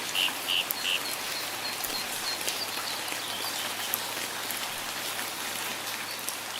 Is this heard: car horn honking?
no